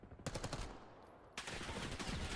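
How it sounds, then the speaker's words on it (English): Rapid bursts of automatic gunfire crackle in a competitive first-person shooter match, two dense rattling volleys separated by a brief gap, moderately loud with no talk over them. "Little rat-tat-tat gunfire there over by the B side of the map."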